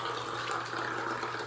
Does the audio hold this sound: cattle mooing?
no